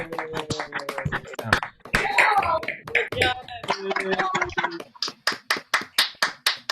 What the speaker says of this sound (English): give an applause to everyone for all the incredible work they've done